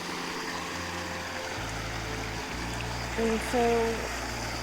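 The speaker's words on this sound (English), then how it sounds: "there's this little creek running right through our backyard." A small backyard creek flows in a steady broadband wash throughout, close and continuous, with someone speaking briefly over it.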